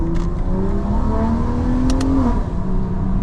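A BMW M340i xDrive with a custom XHP tune revs hard from inside the cabin, its engine note climbing loudly and steadily before dropping off with a brief shift.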